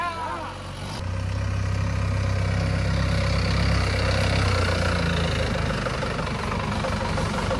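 A forklift engine starts up nearby and settles into a steady, loud, low idle rumble that lasts several seconds. Voices are heard faintly around it.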